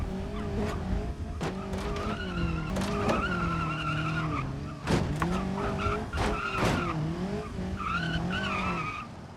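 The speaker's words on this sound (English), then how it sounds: "I am going second gear, foot flat to the floor" An Ibushu Covet 1.5 car runs hard in second gear with the throttle floored, its engine note rising in wavering pitch sweeps and dipping briefly between surges. The loud, steady roar fills the whole stretch and no one speaks over it.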